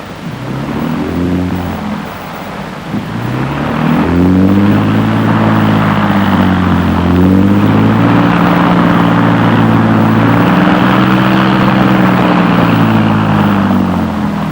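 Small propeller aeroplane with a woman pilot flying a pleasure flight along the Great Yarmouth coast, heard from on board as a loud, steady engine drone with a wavering harmonic pitch that grows louder after a few seconds and holds.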